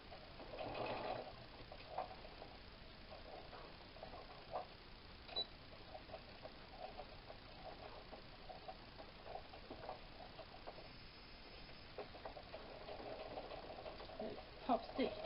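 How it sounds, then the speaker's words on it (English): A sewing machine top-stitches the sides of a tote bag in a long, faint, steady hum, with brief louder bursts and small clicks throughout. "Top stitch down the sides, which I shall attempt to do."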